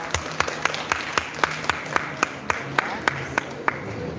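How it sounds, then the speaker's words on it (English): Audience at a pageant workshop gives a round of applause, a run of crisp, evenly paced claps close by over a busy room background with faint murmuring. "Okay, round of applause."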